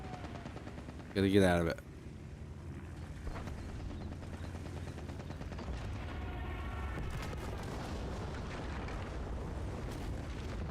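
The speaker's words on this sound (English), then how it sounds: "Strafing run's coming in." Strafing-run machine gun fire and explosions in World of Tanks, a sharp loud burst early on, then rumbling engine and battle noise continuing beneath a voice.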